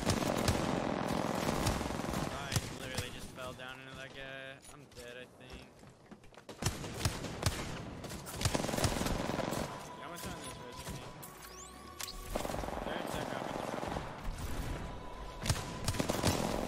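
Enemy gunfire in an Apex Legends ranked match crackles in bursts of rapid shots at mid distance, mixed with game effects and heavy player talk over it.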